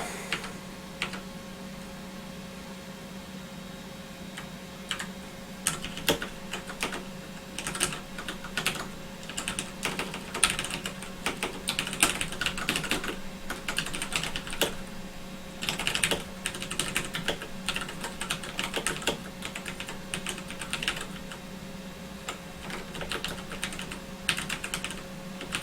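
Steady typing on a computer keyboard while writing code to handle DWARF debug information, with irregular bursts of clicking keystrokes over a constant low electrical hum and no talking.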